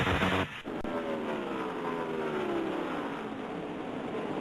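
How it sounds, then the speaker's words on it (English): NASCAR stock cars racing on an oval track, a loud sustained engine roar with a car sweeping past and its pitch dropping, plus a sharp burst near the start. "We got a lead change going on here right now as Kurt Busch is trying to go underneath the 20 car of Tony Stewart down into 1"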